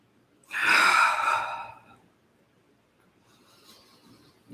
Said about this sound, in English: Long, deep breathing.